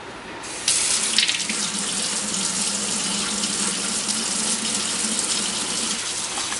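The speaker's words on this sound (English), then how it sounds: "now I'm going to wash my hands" A kitchen tap runs strongly into a sink while hands are washed, a loud continuous gush that steps up in force early on and holds steady to the end, with no voices.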